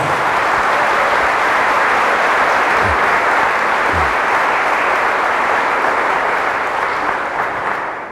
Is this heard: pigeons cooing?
no